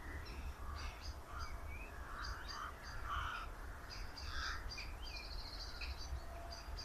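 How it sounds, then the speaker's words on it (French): Crows cawing at their roost in the countryside at dusk, several scattered calls over a steady low rumble of wind or distant noise, no voices. "Voilà, les corbeaux."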